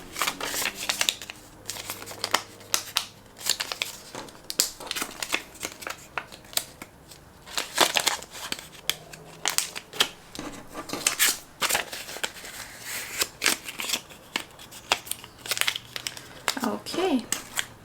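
Paper cash being handled and stuffed into envelopes, with repeated crinkling, rustling and card-like shuffling close by, in irregular bursts across the whole stretch and no talking.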